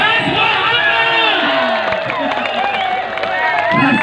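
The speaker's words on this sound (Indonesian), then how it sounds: "Saya minta tepuk tangannya yang kenceng buat Presiden Reginya Indonesia" A large crowd at a reggae show in Tegal cheers, whoops and applauds for Ras Muhammad. The roar is dense and sustained, with voices rising over it throughout.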